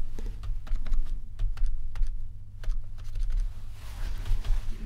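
Steady, continuous typing on a professional mechanical computer keyboard, with close, crisp keystrokes in a fast, irregular rhythm over a constant low electrical hum, with no talking.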